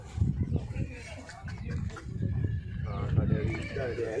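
A mare neighs with high, shaky whinnies under people talking nearby. Her calls are fairly faint and partly covered by the voices.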